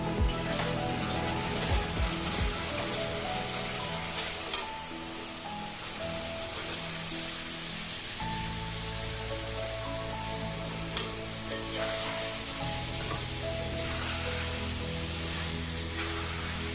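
Raw paneer cubes stirred into palak in a hot pan, a steady soft sizzle with scraping stirs running throughout over a constant tonal background hum.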